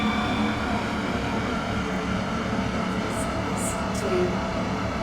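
An R132 metro train from the game SCR runs in a cab ride, producing a steady, loud, even rumble with faint high tones near the end.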